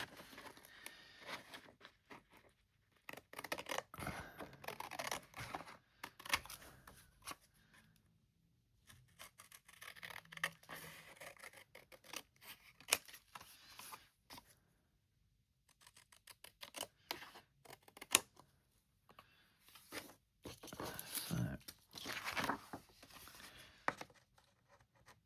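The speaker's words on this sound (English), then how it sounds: "Okay, now I can fussy cut these out." Scissors fussy-cut printed paper journaling cards close up, with quiet snipping in irregular bursts of short crisp cuts and paper rustles, separated by brief pauses.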